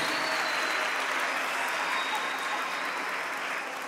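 An audience at a Catholic religious event applauds a singer, a continuous even roar of clapping that fades slightly at the end.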